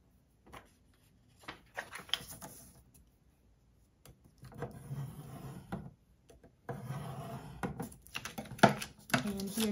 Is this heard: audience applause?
no